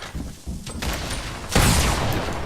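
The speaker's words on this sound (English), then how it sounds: "Flap takes some shots at an enforcer, doing 25 damage to his shield" Bursts of gunfire in the Fortnite video game, a few loud shots spread over a couple of seconds with a heavy burst near the end, no talking.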